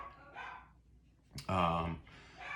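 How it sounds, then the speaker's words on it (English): Dogs bark indoors, with a couple of distinct barks mixed among voices in a short burst. "I'm sorry if you hear my crazy dogs barking."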